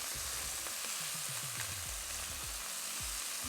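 Chicken pieces fry in a pan for honey garlic chicken, a close, steady sizzle and crackle with a run of small pops and spatters, no talking.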